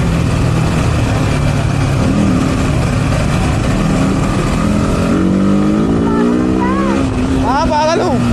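A vehicle engine runs steadily during a ride, its pitch climbing as it accelerates under continuous road and wind noise, with people talking over it.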